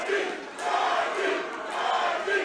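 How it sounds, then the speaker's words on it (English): A fight crowd at the Devastation 2017 event roars and cheers for Georgie Medina against Devon Jeffries; the loud, sustained cheering rises and falls in waves, with shouts rising above the roar. "Crowd squarely behind Georgie"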